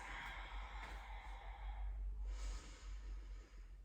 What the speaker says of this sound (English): Take a couple of long deep inhales and exhales.